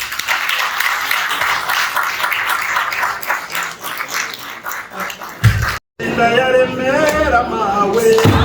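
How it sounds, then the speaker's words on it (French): An audience applauds Placide at a charity evening for refugees in Beersel, Belgium, with steady, dense clapping that runs for several seconds, cuts out briefly, and then gives way to a voice speaking. "On peut l'applaudir."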